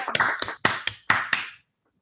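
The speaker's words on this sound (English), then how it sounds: "give a round of applause to our graduates" A brief round of applause from a virtual graduation ceremony for brain sciences postgraduates, made up of a few hands clapping in quick sharp bursts close to the mic before it cuts to silence.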